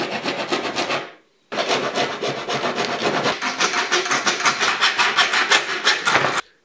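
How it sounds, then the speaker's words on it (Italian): A metal file scrapes a groove into screw marks with steady, close back-and-forth rasping strokes, a short pause after the first second, then continuous rhythmic filing to the end. "Io adesso semplicemente calcherò quel segno con una lima e farò uno scavo in cui può scorrere"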